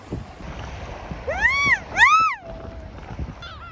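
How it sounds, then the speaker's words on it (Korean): Seagulls call at the seaside at Oido: two or three loud, close, rising-and-falling squawks over steady wind and surf noise, followed by a fainter call at the end. "갈매기 개 많아요"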